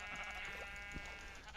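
A sheep bleats in the Minecraft Aether II mod, a faint wavering game-animal cry heard close, alone against a quiet steady background hum.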